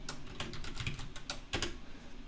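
Rapid, uneven clicking of keys on a computer keyboard, close up, with a few heavier keystrokes standing out, no voices.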